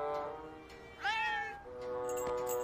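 Stray cats near a building meow in a short exchange of calls, one clear rising-and-falling meow in the middle standing out among softer mews, fairly faint and with no one talking.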